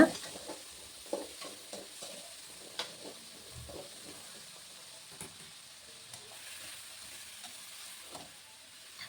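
Eggplant frying in oil for a kuzhambu, stirred now and then with a ladle: a soft, steady sizzle with scattered scraping clicks and knocks from the ladle, fairly quiet and with no talking.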